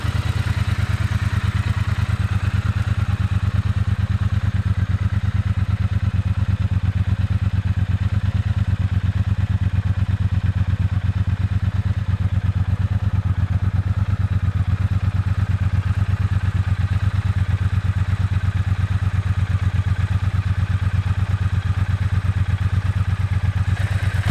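A Triumph T120 Black Gold Line motorcycle with a 270-degree engine runs at a steady idle, its low mechanical thrum and clatter continuing unbroken and close throughout.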